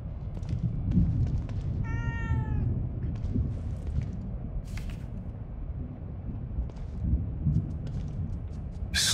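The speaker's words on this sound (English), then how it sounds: "I don't ever remember owning a cat." A cat meows in the survival horror game The Evil Within 2, a short rising cry heard once over a low droning ambient background with scattered faint clicks.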